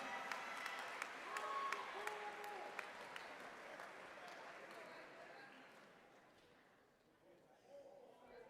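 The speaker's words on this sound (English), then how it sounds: "One more round of applause for our athletic training staff." A round of applause at a university athletics awards ceremony honoring the athletic training staff, sustained crowd clapping with a few sharp claps standing out, fading gradually toward the end.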